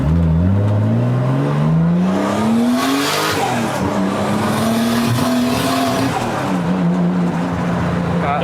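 An untuned A31 Nissan Cefiro with an RB25DET engine pulls hard on a test drive, its loud engine note climbing in pitch through one long rising rev, dipping at a shift, then building again from inside the cabin.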